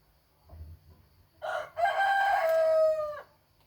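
A rooster crows once in a yard, loud and close, a drawn-out cock-a-doodle-doo after a few quiet clucks.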